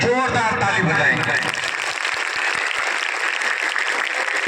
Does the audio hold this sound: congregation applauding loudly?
yes